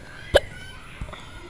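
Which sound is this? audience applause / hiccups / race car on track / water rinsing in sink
hiccups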